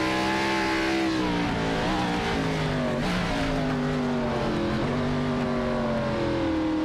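A race car in the iRacing simulator brakes hard and the wheels hop, giving a loud, close engine drone whose pitch steps and wavers with shuddering dips, continuous and alone with no talk.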